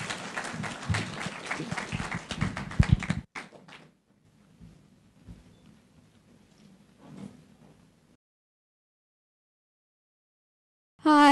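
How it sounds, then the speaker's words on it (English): Audience applauding award winners at a teen reading festival: dense clapping for about three seconds, then fading to near silence with faint shuffling and a few scattered sounds. "Let's give them a round of applause."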